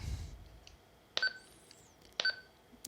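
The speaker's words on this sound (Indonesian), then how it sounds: "Roger ini untuk kalau kita mencet PTT dia akan bunyi beep." Two short electronic beeps, about a second apart, from a Retevis RT23 handheld radio as its push-to-talk key is pressed, each a brief two-tone chirp over quiet background hiss.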